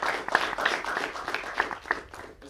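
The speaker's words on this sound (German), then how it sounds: "så gi ham en applaus også" Audience applause at a bachelor's graduation concert: steady, dense clapping from a crowd, fairly close and sustained throughout without pause.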